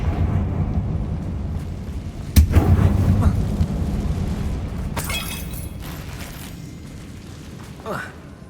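A Confringo spell blast in the Hogwarts Legacy video game, in a closed mine like a tomb, with a sharp booming impact followed by a rumbling decay over a low game ambience, and a lighter crackling burst a few seconds later.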